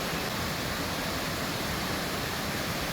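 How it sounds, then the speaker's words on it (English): St Columba Falls in Tasmania, a waterfall of about 90 metres, roars as a steady, even rush of falling water with no other sounds. "These are one of the highest waterfalls in Tasmania,"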